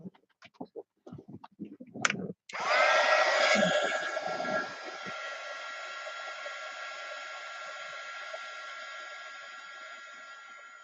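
A hair dryer switches on and blows steadily at close range, with a bright whining hum that holds for several seconds after some brief handling noises at the start.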